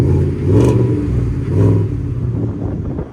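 A 2019 Ford F-150 FX4 with a 5.0L V8 and its exhaust cutout closed revs twice in loud, close bursts, each swelling and falling, over a steady deep idle rumble.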